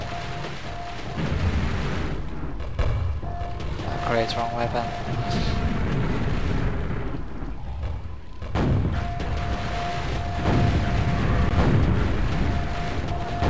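Quake gameplay with repeated booms and thuds from explosions over a steady rumbling background, while a person talks over the action.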